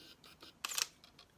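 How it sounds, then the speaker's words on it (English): A single crisp shutter click from an SLR camera sits in the middle of quiet room tone, a sharp double snap of mirror and curtain. "So when you click that, you will hear a,"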